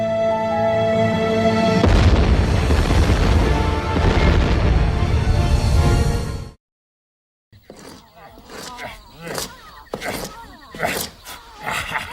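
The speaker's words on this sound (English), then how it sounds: "Bombs away." A cartoon effect of bombs exploding in volcanoes, with a long, loud rumbling blast that cuts off abruptly, then after a brief silence gives way to choppy speech.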